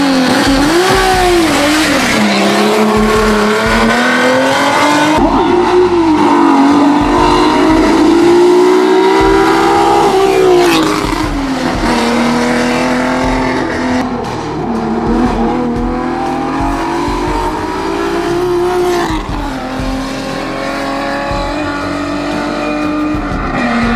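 Alfa Romeo GTV6 race car accelerating on a track, a loud V6 engine note rising and falling through repeated gear changes, held close and continuous over about twenty seconds.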